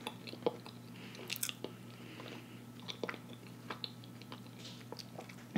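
Soft, close chewing and biting of catfish steaks and french fries at a mukbang: quiet, irregular crunchy and wet bites over a faint steady hum, with no talking.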